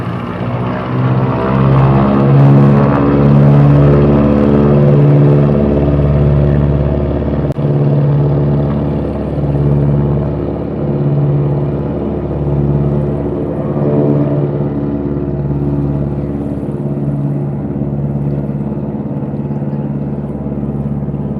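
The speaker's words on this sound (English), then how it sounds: "I love watching the float plane take off and land." A float plane takes off from the water with a loud, sustained propeller drone. The engine roars strongly at first, then holds a steady pitch as it gradually fades a little into the distance, with no voices over it.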